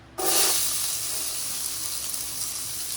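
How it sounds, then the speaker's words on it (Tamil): Onions sizzling loudly in a hot pan for rava vegetable idli, a sharp frying hiss that bursts in at once and holds steady with no talk. "வெங்காயத்தை சேர்த்துக்கின்னு வெங்காயமும் நல்லா வதங்கணும்."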